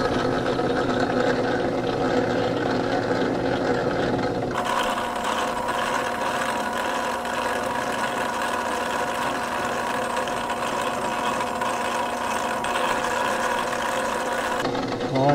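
A metal lathe takes cleanup passes with a boring bar cutting internal threads, the bar prone to slight chatter, producing a continuous close machine hum with steady tonal whine that shifts once early and again near the end.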